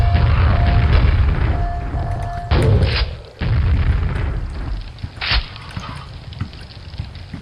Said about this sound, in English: you can take advantage of the grenade launcher's unique tactical abilities and bounce around corners to do this